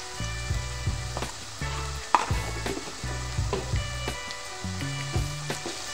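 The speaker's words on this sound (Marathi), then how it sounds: "आता मी यामध्ये 1 चम्मच आलं लसूण पेस्ट टाकून घेणार आहे" Ginger garlic paste hitting a hot pan of potato chutney, producing a steady close-up sizzle and frying crackle with a few stirring scrapes and clinks, no voices.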